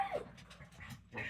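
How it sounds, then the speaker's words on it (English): Excited dogs whimper and pant in a short, fairly quiet burst of high whines and breathy huffs, with no clear barks. "dogs are going nuts."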